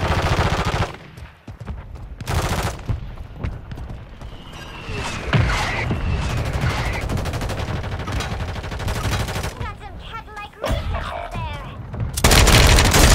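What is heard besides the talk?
gunfire and mortar strike in video game Call of Duty 3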